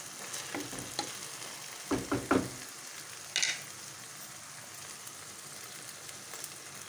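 Onions frying in a pan for Spanish-style sardines, a steady soft sizzle with a few scraping stirs of the spoon in quick bursts, close and alone without talk.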